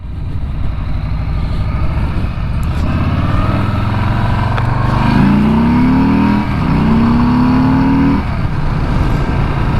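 A 2020 Harley-Davidson Street Bob motorcycle engine rumbles steadily, then revs upward in two rising pulls through the gears, loud and close with wind noise throughout, no talking.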